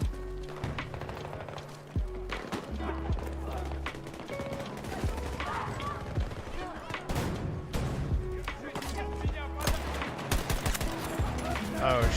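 Bursts of automatic and single-shot gunfire and explosions in the shooter game Battlefield 2042, dense and loud throughout, mixed with game effects and occasional voices.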